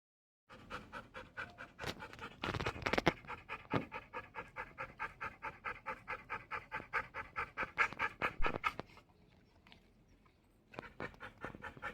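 A tethered pet dog pants with its mouth open, fast rhythmic huffs repeating steadily and close by, pausing briefly near the end before starting again.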